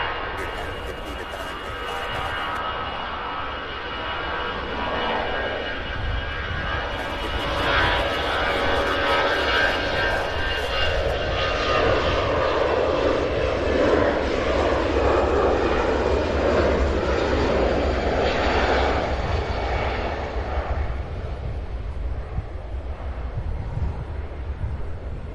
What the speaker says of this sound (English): heading to Destin, Fort Walton Beach, an Airbus A320 200 series